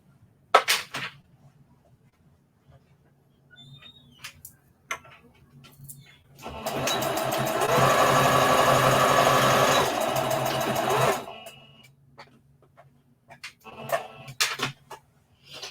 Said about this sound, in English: So we will just go back and sew it down.